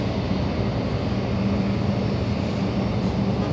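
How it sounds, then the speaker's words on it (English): Airliner noise from a JetBlue jet flying in to land at Los Angeles International Airport, a steady low broadband roar with a faint hum, continuous and fairly distant throughout, no voices. "We have JetBlue 707 flying in from Seattle, Washington, a 2-hour flight."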